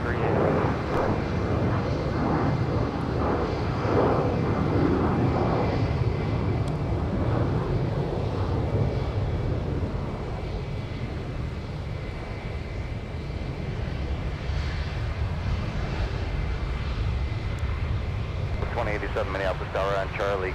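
A Delta airliner takes off from runway 17 at Minneapolis–St. Paul airport, its engines a loud, continuous broadband roar throughout, with a radio voice cutting in near the end.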